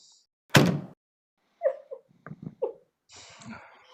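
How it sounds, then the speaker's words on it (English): A hotel-room door is opened onto the corridor in a vintage radio drama: one firm thunk, then a few softer clicks and rattles, with a faint rustle at the end. "I'm going to open the door and take a look."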